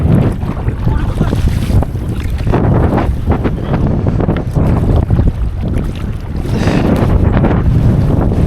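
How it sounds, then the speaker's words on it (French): Strong wind at sea during a kayak outing off southern Finistère, roaring steadily and buffeting the microphone in loud gusts, with waves and water noise mixed underneath. "Mon gars, le vent."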